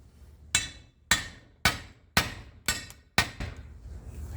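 Six sharp metallic hammer blows, evenly spaced about half a second apart, driving a fence post repair bracket down into place, each strike ringing briefly before fading, close and clear with nothing else around.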